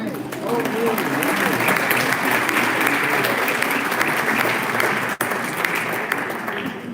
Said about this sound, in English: please give Public Works a round of applause for the work